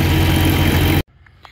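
A 1945 Oliver 60 Row Crop tractor engine runs loud and steady at close range, then cuts off abruptly after about a second, leaving near silence with a couple of faint knocks.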